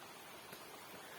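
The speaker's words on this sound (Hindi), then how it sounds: "और झरने की आवाज तो आप लोगों को सुनाई दे रही होगी।" A forest waterfall gives off a steady, faint wash of rushing water, an even broadband hiss with no breaks and no voices.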